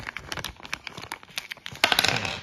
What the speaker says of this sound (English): Let me get the screws out of the plastic bag.